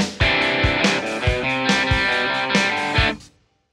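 Music track with its tempo slowed using Flex tempo in Logic Pro X: a steady beat of thumping low hits under sustained bright tones plays loudly, then cuts off near the end.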